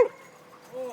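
A French Bulldog gives one short, sharp bark at the very start, then a brief whine-like tone, close and fairly loud.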